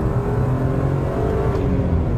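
A BMW E46 M3 engine runs loud and close under acceleration, a steady throaty drone with a building rev and no talk over it.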